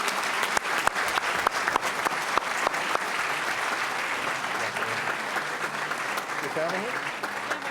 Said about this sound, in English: Let's give Salma a big round of applause.